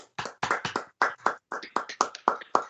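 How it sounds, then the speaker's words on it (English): Police board members at a meeting applaud award recipients, a short run of sharp, fairly sparse claps from a few pairs of hands in an uneven rhythm, close and clear with no talking. "we could offer a round of applause to the recipients"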